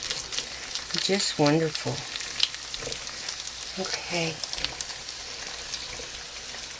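Steady sizzle of about 1.5 pounds of beef frying in a big pan, a broad hiss running the whole time with a faint scrape or stir, while someone talks briefly over it.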